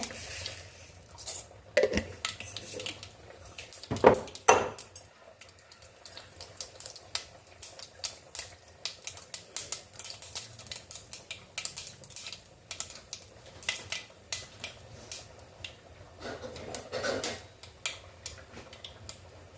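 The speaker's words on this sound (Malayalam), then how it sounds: "എണ്ണ ചൂടായിട്ടുണ്ട് നന്നായിട്ട് ചൂടായിട്ടുണ്ട് നമ്മൾ കടുക് ഇട്ട് കൊടുക്കേ" Mustard seeds splutter in well-heated oil, giving quiet, irregular bursts of sharp little pops and ticks, close by and with no talking.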